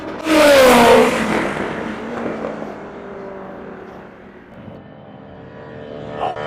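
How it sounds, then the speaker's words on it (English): A race car screams past at top speed on the Mulsanne straight at Le Mans, a loud close whoosh with a falling engine pitch, then fading into a distant hum before another car approaches faintly. "The point where the cars reach the highest speeds"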